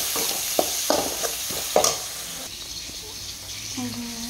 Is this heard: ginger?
yes